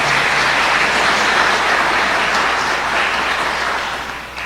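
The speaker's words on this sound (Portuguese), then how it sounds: "Vamos aplaudir a palavra do nosso Deus?" A church congregation applauds during an evening service, a dense, steady wash of clapping that fills the space and tapers slightly toward the end.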